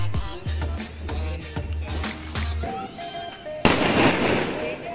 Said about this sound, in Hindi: पटाखे फोड़ रहे हैं।